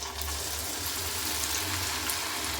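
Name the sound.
potato french fries dropped into hot oil frying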